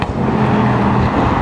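An Audi drives past on a Paris street and accelerates hard, its engine note loud and close with a rising roar across a brief burst.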